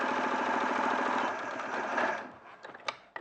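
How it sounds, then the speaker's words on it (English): A sewing machine runs fast and steady for about two seconds, stitching down the length of fabric folded right sides together, then stops, followed by a few light clicks. "now we're just sewing down the length"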